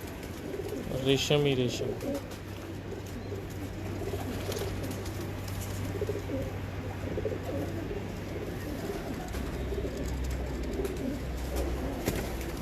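Breeder pigeons on a rooftop in Multan coo softly and repeatedly close by, under a steady low hum and intermittent conversation.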